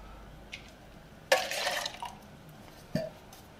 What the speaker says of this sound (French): n'hésitez pas à venir mettre un peu d'eau au fond de...